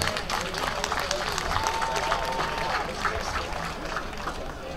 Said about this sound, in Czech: potlesk pro pana zvukaře!